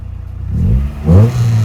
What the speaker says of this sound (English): Man, hear that VTEC though?